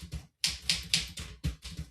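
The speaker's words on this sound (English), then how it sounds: "You will have to, every once in a while, maybe hear our keyboards like this." Keyboard typing picked up by a computer microphone during a gaming discussion stream: a short run of sharp, close key clicks in an irregular rhythm, heard alone without talk.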